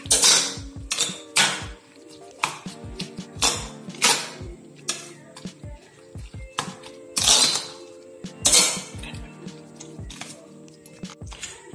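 Egg and salt beaten in a bowl with a spoon for a bread omelette, giving a rapid, uneven run of close clinks and taps against the bowl, each stroke loud and sharp, with no talking.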